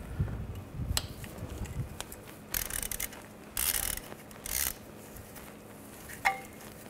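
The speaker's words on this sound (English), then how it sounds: "Now I'm gonna use an E10 socket. Take these two bolts out that go to the oil return line." A ratchet with an E10 socket removing the oil return line bolts from the oil filter housing on a 2011-2015 Chevy Cruze, with short close bursts of rapid ratcheting clicks and mechanical rattles between quieter pauses.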